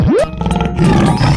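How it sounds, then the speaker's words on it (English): A tiger gives a single loud, close roar that sweeps upward and breaks into a rough, growling rumble, all within about a second. "Tiger."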